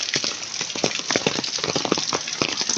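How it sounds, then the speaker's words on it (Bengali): Heavy rain falls at a large duck farm, a loud, dense and steady hiss with fine pattering and crackling ticks throughout. "দেখেন প্রচুর পরিমাণে বৃষ্টি হচ্ছে"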